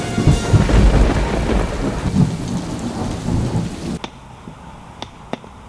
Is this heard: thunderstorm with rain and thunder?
yes